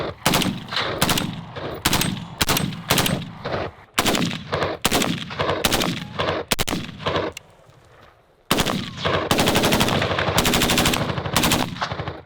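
HK G36C rifle fired in rapid bursts and strings of shots, loud and close, with a short pause before a final long sustained burst.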